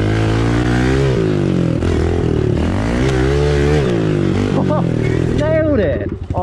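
A pit bike engine on a dirt track jump revs hard, its buzzing pitch climbing and falling in repeated surges, close and loud before easing off at the end.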